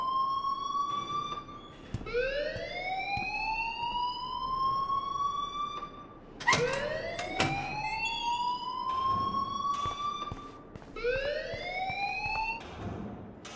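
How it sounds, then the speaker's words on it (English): A fire alarm siren wails in the Life is Strange video game, rising in repeated sweeping whoops that restart every few seconds, loud and steady with no voices over it. "please turn off that alarm since that's your job"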